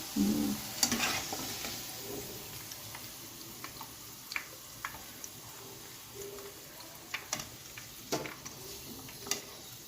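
Bitter gourd slices fry in oil for a karela gosht dish, a quiet, steady sizzle broken by scattered light clicks and pops, heard alone without speech.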